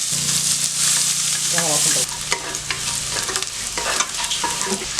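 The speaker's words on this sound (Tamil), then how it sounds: "வெங்காயம் வந்து இந்த அளவுக்கு நல்லா செவக்க வதக்கிடுங்க." Onions frying in hot oil with mustard seeds and curry leaves for a Tamil parotta salna, a steady close sizzle with scraping stir sounds and spatula clinks through the second half.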